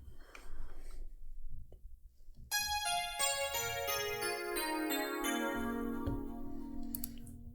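An FM Tones synth patch plays a melody stepping downward through the notes in a trap beat, entering after a couple of seconds of quieter sound and ringing on with bright sustained tones and a descending line.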